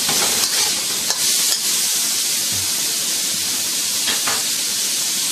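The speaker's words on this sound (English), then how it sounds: "So we're just going to do a quick stir fry for about 30 to 45 seconds" Prawns stir-frying in a wok in a Chinese restaurant kitchen give off a loud, steady sizzle and hiss that runs the whole time, with a few brief scraping stirs.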